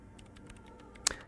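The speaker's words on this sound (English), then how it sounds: "The woman is still hunched over the keyboard, gently illuminated by the purring machine." Quick, soft keystrokes on a computer keyboard in the Disco Elysium game, a light irregular patter ending in one sharper key strike, close and quiet.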